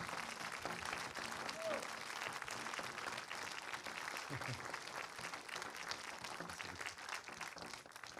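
Audience applause at a film screening and debate with the director, a soft, sustained patter of many hands clapping in a hall, quiet and even, with a brief voice or two underneath.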